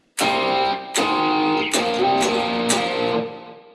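Distorted electric guitar power chords strummed in the chorus riff of a song: five loud, ringing chord hits, each left to sustain and slide before the next, played alone without voice.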